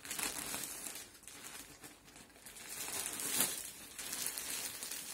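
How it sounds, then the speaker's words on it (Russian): A parcel of knitwear is unpacked, with soft, continuous crinkling and rustling of a plastic bag, fairly quiet and without talk. "Сейчас распакуем и покажем все."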